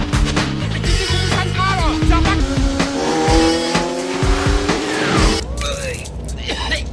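A car chase from the 2002 film The Transporter fills the scene with repeated squealing tire skids and roaring engines, loud and dense, with overlapping film sound and occasional voices.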